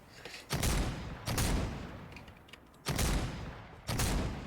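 A burst rifle in the Fortnite video game fires four separate bursts at uneven intervals, each a short, loud, tight cluster of shots, with quieter gaps between them.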